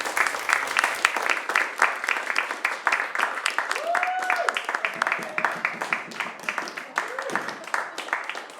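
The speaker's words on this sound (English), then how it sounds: "Can we give Sash a big round of applause, please?" An audience at a live pain-education talk gives a sustained round of applause, dense clapping throughout that gradually thins out, with a voice speaking over it partway through.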